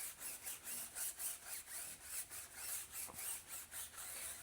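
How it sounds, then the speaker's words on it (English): Stiff wheel brush scrubbing car tyres in a steady back-and-forth rhythm, roughly two strokes per second, close and moderately loud with no talking. "All right, so we're going to scrub these wheels down. These tyres, should I say."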